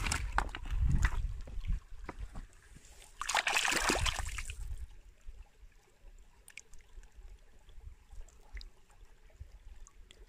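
A stone gets rinsed in stream water, with splashes and a brief burst of rushing, sloshing water, then quieter trickling and light clicks close by.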